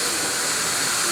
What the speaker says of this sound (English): Air operated clamp.